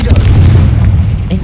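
A Confringo or Bombarda spell explodes in Hogwarts Legacy, a loud, deep booming blast that rumbles heavily up close and fades within about a second, with a voice briefly present.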